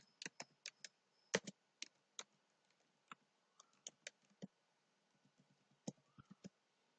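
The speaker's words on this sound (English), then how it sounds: "So I will type the name" Fingers type on a computer keyboard, a scattered run of light, crisp clicks in short bursts with brief pauses between, close and fairly quiet, with no voices.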